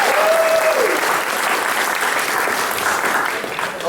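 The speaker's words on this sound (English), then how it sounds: "How about a nice round of applause?" A room of people at a Golden Cane ceremony honoring Longmeadow's oldest resident claps in sustained, dense applause that fades slightly toward the end.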